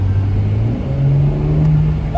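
A 2021 BMW M4 Competition driving, its engine giving a loud, close, steady drone that rises slightly in pitch as the car pulls along, with no voices heard.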